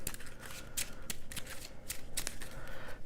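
Playing cards shuffled by hand, a run of crisp riffling bursts with sharp snaps, close and clear with no talk.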